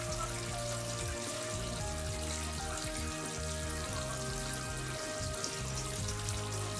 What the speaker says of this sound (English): Pump on. The shower came out firmly.